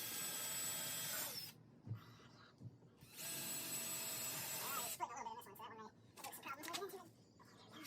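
A power drill bores pilot holes into a wooden brace for a pallet bike rack, giving two sustained whining bursts of a few seconds each, followed by scattered knocks and handling noises.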